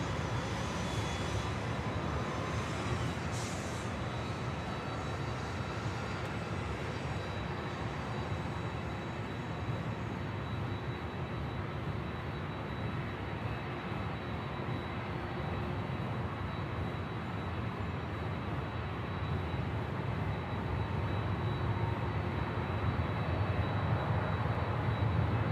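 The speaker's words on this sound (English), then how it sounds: "the Hawaiian A321neo now rolling down at 24 left" On runway 24L at LAX, a Hawaiian Airlines A321neo jet makes its takeoff roll as a continuous, distant engine rumble and hiss that holds steady for about twenty-five seconds, with no voices over it.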